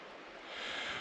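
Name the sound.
flowing water outdoors on a winter hike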